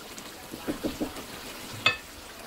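Tomatoes and potatoes frying in a pan give a quiet, low sizzle with a few soft stirring knocks and a sharper clink near the end.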